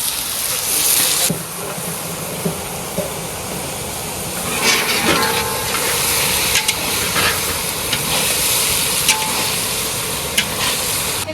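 Potato and pumpkin sizzle steadily in a pan while being stirred, with occasional scraping and clinking of the utensil against the pan over continuous frying noise, and faint voices now and then.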